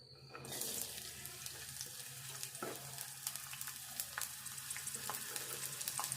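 Onions frying in a pan, a steady close sizzle with crackling pops throughout and a few light stirring scrapes, no voices.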